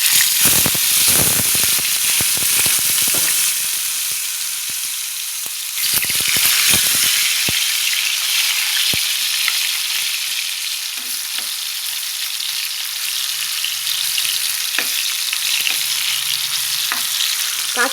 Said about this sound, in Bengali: এই যে তেল গরম হয়ে গেছে। এবার কাঁচা কলাটা ভেজে নিই